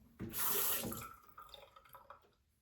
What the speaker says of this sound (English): Run that under a little bit of cold water